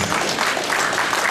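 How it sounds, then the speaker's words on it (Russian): Dense audience applause at a bodybuilding cup event, a steady wash of clapping throughout at moderate loudness. "Аплодисменты"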